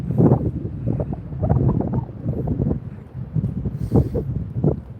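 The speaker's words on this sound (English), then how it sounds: "If you're hearing anything, you're probably hearing a lot of wind." Strong wind buffets the microphone in uneven, gusting bursts at a trackside spot by 23rd Street, close and loud, with no one talking.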